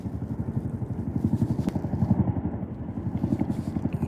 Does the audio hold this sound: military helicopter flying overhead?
yes